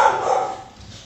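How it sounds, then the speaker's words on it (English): Puppies give a quick, close yip or bark lasting about a second, then fade. "Those are my crazy puppies."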